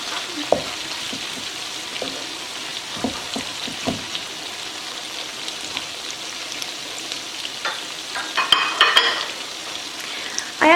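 Tomato rounds soften in a frying pan with a steady low sizzle, scattered light utensil taps and scrapes, and a busier clatter of stirring near the end, heard up close.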